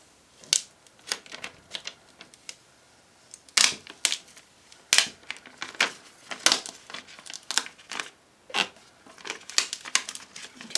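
Vinyl being pressed and smoothed by hand onto a 12 x 24 Cricut Explore cutting mat gives irregular close crinkling taps and rustles, some louder bursts among quieter scuffs, with no talking.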